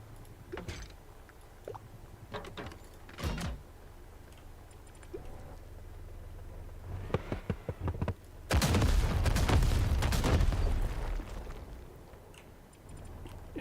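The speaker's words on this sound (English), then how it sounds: "Heavy hitting long cannon with triple burst fire pattern." A heavy long cannon in the video game TankHead fires in triple bursts, loud booming shots in short clusters, with a sustained roar of blasts near the end.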